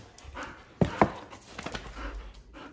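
An excited pet dog pants and huffs close by, with two sharper bursts early on followed by quieter breathy panting.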